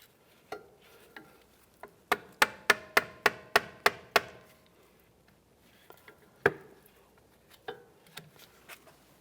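A metal straight pick is tapped against a steering rack boot clamp on a 2011-2015 Chevrolet Cruze, giving a rapid run of about nine sharp metallic taps, then a few scattered louder knocks, close and otherwise quiet.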